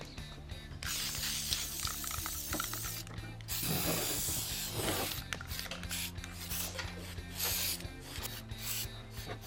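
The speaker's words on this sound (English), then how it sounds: "It's time to spray the paint." Close hissing bursts of an aerosol spray can, several long sprays separated by short pauses, with clicking and rattling handling noises between them.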